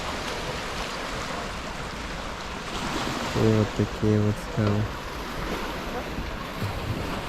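Sea waves wash against a rocky shore along a cliff trail near Aktau, heard as a steady rushing surf with gusty wind noise on the microphone while someone speaks close by.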